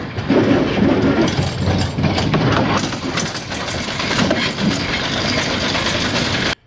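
A wooden roller coaster at Knoebels amusement park rattles along its track, a loud, continuous rumbling clatter of wheels on wood with clickety-clack rhythm that holds steady before cutting off abruptly at the end.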